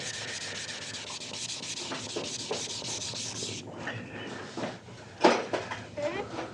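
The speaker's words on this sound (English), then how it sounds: "you're just sanding it flat, smoothing it in the best you can" Steady, raspy hand sanding on a painted Harley-Davidson Dyna fender rubs on and on for several seconds, then gives way to slower scraping strokes and a few sharper knocks.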